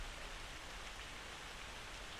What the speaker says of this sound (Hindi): बेहजाद, बस करो बेटा, भीग गए हो बिल्कुल बारिश में